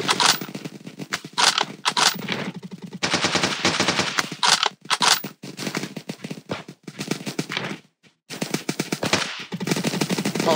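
Rapid bursts of airsoft gunfire from a Roblox tactical combat game fire in long automatic strings with brief pauses, loud and close, with no talking over it.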